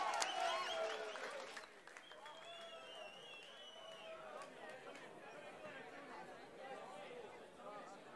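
Audience applause at a Boiler Room club event in Krakow, a loud burst of clapping and cheering at the start that fades into steady crowd chatter and hubbub, with some whistles.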